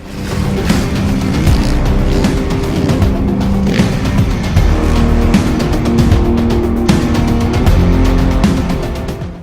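A motorcycle built by ex-Ferrari engineers runs with a loud, steady engine drone that stays close and constant throughout, with no talk.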